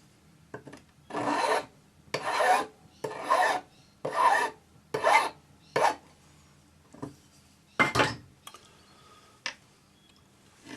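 A metal hand file rasps across the bottom of a jewelry basket setting held in flat round pliers, heard as about eight close, distinct strokes in an even rhythm with short pauses between, followed by a couple of lighter scrapes.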